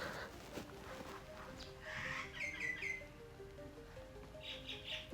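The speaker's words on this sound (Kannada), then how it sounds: "ತುಂಬ ಸಖತ್ತಾಗಿ ಕೇಳಿಸ್ತಾ ಇದೆ ಎಲ್ಲ ಹಕ್ಕಿ ಸೌಂಡ್" Several birds chirp outside a window, faint bright tweets and short trilling calls in bursts over a quiet room background, with a low hum underneath.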